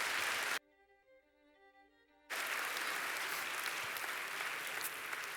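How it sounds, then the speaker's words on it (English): A church congregation claps for three volunteers, the dense applause cut off briefly by a sustained electronic tone before resuming strongly and continuing to the end. "let's give them all 3 a big round of applause."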